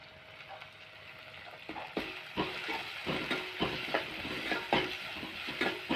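Onion, curry leaves and green chilli frying in a pan, steady soft sizzling with repeated scraping stirs of a spatula, close and fairly quiet, with no voices.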